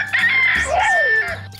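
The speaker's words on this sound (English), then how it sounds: "That's the rooster crowing." A rooster crowing once, a loud, close, drawn-out call with a rising and falling pitch, alone with no talk.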